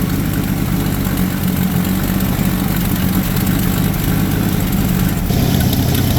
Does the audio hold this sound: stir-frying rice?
no